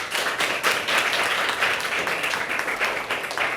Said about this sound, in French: Nous allons applaudir pour Nour.